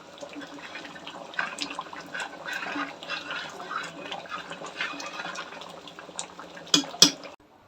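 Leftover fish curry boiling in a pot, a soft continuous bubbling and simmering close by, with a couple of sharper clinks near the end.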